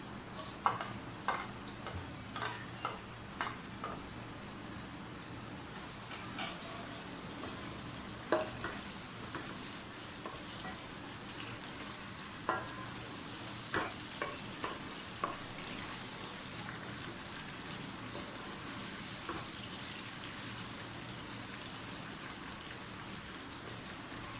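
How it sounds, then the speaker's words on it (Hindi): Soft, steady sizzling of food frying in a pan, with occasional light clicks of stirring, faint and close, no talking. "प्याज फ्राई हो गया"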